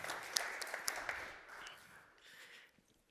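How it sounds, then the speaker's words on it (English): A short burst of applause from a small crowd, scattered claps fading gradually toward quiet, fairly faint and distant. "give a big applause to our team"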